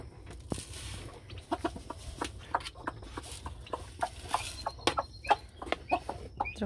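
A hen clucks repeatedly in short, irregular bursts, fairly close and moderately quiet, with soft background noise between the clucks.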